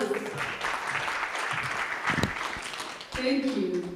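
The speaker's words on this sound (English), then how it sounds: "A round of applause." Audience applause welcoming a deputy director for the East African region at a partnership celebration event, a steady wash of clapping with some voices mixed in, loudest near the end.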